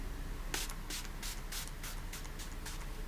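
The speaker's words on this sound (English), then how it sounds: "Shake it up and then just spray it directly onto my face." Pixi Glow Mist face spray misted onto the face after shaking, giving a string of about eight short hissing bursts in a loose rhythm, close and fairly quiet, with no talk.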